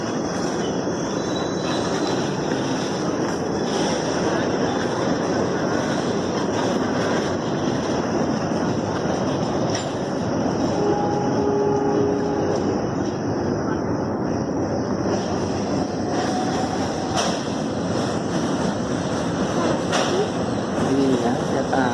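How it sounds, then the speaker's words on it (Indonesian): A tank freight train rolls steadily past at Malang station, a sustained broadband rumble of wagons with faint wheel squeals and occasional clicks, loud and close throughout with voices in the background. "Tuh, kereta api tangkinya jalan."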